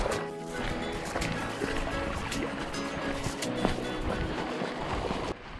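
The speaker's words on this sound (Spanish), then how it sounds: "Es una maravilla todo poder andar y escuchar el arrullo del agua" Continuous murmur of a stream flowing through the rocky Hoz de Carboneros gorge near Hontanar, Toledo, a steady close rushing of water with faint splashes and a few footsteps.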